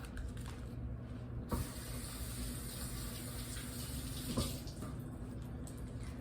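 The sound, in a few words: rinsing spinach under running tap water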